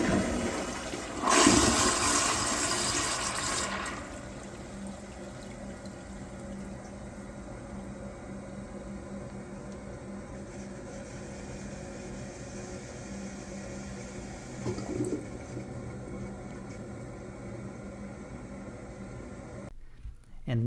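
Flushmate pressure-assist toilet flushing slowly: a sharp, loud rushing burst for a few seconds, then a long quieter hiss of water refilling that continues until it cuts off.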